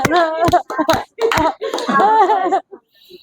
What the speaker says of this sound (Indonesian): Udah fokus, tepuk tangan